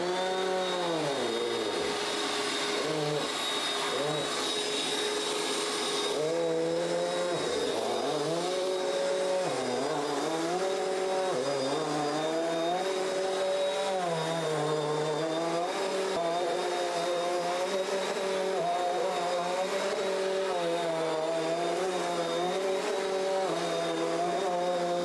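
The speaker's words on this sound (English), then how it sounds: "So here is the Bissell CleanView Compact." Bissell CleanView Compact vacuum cleaner running over a rug to pick up scattered Rice Krispies, a loud steady motor whine with shifting pitch as it makes repeated passes, no talking.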